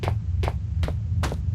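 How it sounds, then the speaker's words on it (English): Worm creature sound in the horror video game Penumbra: four evenly spaced, hissy, breathy pulses, roughly two to three per second, over a steady low droning hum, with no talking. "That is the sound of worm."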